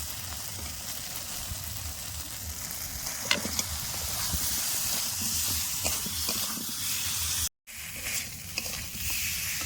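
Spice paste for braised meat sizzles steadily in hot oil, a continuous close frying hiss with occasional stirring clicks and a brief dropout, with no talking.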